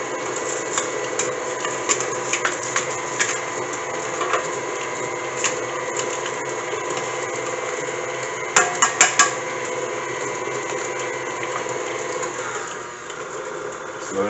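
An electric mixer whirs steadily through coffee cake batter, a continuous close motor drone with small clacks against the bowl, faint speech now and then underneath.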